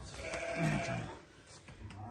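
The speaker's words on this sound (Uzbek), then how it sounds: "Jonivor o'ta katta bu qo'ylar." Dorper sheep bleat at a livestock market, a couple of short nearby calls mixed with people talking.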